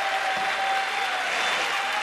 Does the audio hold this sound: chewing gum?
no